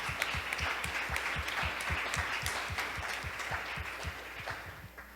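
A church congregation applauds during a sermon, a steady crowd of many hands clapping with a few distinct sharp claps near the front, holding evenly before tapering off slightly at the end.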